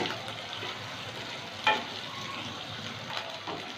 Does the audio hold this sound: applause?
no